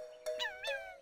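Cartoon kitten giving two short, high, clear meows in quick succession over a faint steady tone, alone and close.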